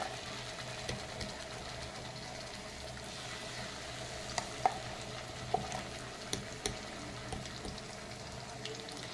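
Onions, then spices, fry in oil in a pan, giving a soft, steady sizzle with occasional light clicks and stirring noises, faint and close, with no talking.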